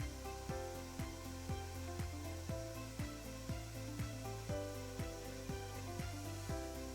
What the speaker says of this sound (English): Okay, system is braking. As I said, it means it's ramping down, both systems.